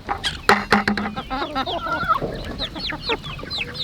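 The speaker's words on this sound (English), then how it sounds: "guys ready to see some excited chickens?" Several chickens cluck and squawk excitedly close by, a lively overlapping chatter of short calls with no one speaking.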